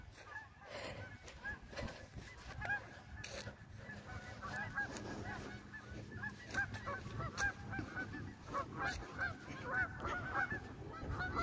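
Geese honk repeatedly and loudly from a flock swimming on a lake, the calls overlapping in an irregular chorus with steady outdoor background noise.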